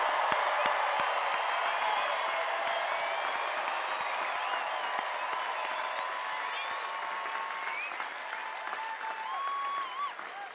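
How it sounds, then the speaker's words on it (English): A large crowd at a university undergraduate commencement ceremony applauds steadily and loudly throughout, with scattered cheers and whoops rising over the dense clapping. "How about a little more boisterous round of applause"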